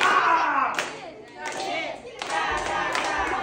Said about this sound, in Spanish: Vamos a darle un fuerte aplauso al cumpleaños